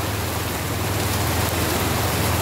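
Heavy typhoon rain pours steadily as a dense, continuous hiss that fills the whole clip, with no voices and no break in intensity.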